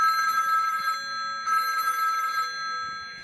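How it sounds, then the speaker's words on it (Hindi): A phone ringtone sounds in two bright, electronic ringing bursts separated by a short pause, fairly loud and close, with no talking. "अरे इसे ये रिंगटोन बहुत पसंद है, जब भी ये भड़के इसे ये रिंगटोन सुना देना।"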